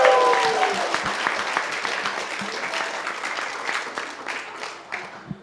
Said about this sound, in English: Final round of applause for our 2017 Silicon North Stars.